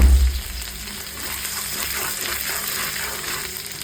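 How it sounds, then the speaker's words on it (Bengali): Ginger sizzles as it hits hot oil for tempering, the base for a Bengali cabbage curry. A loud burst at the start settles into a steady, close, crackling hiss with faint stirring and no talk. "আদাটা আমি ফোড়নে আগে দিয়ে দিলাম।"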